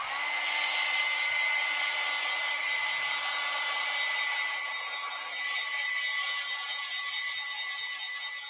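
A hair dryer blows steadily on a fresh watercolor painting, a close, constant whirring hiss with a high motor whine that holds for several seconds and eases slightly toward the end, with no voices.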